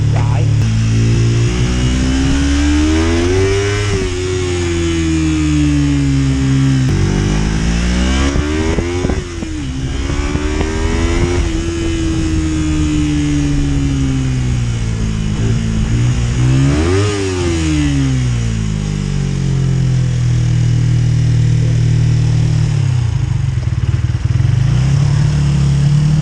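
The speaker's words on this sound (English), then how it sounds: "I've purposely set the idle too high so it doesn't die." An engine idles set too high, holding a fast, loud, steady running note that repeatedly swells and sags in pitch as it hunts, close by, with no talk over it.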